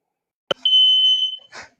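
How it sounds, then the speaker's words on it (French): A fire alarm at home sounds a loud, sustained high-pitched electronic beep after a sharp click, heard through a call microphone, with a voice beginning right after. "T'as une alarme incendie ou un truc."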